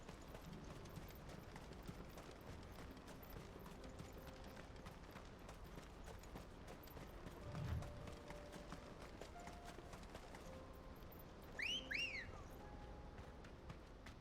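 Chocobo footsteps in Final Fantasy 16 patter as a faint, steady running clip-clop through the whole stretch, with a brief whistle-like chirp near the end.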